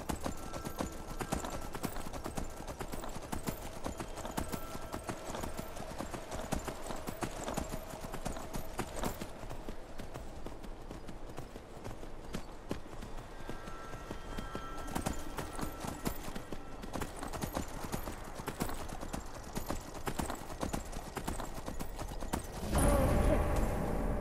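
Horse hooves galloping in the video game Skyrim, a steady rapid clip-clop rhythm close by that continues for the whole stretch, with faint game ambience and a brief louder burst near the end.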